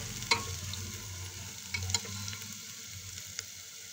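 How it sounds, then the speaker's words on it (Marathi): Red chili powder and black masala sautéing in a pan for khichdi, a soft steady sizzle with a few light scrapes of a stirring spoon, close and quiet, with no talk. "काळा मसाला 1 चमचा टाकायचा पूर्ण आणि हे परतून घ्यायचं"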